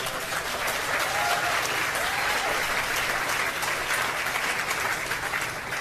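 An audience at a hospital groundbreaking applauds steadily, producing a dense and even wash of clapping that carries on for several seconds with no one speaking.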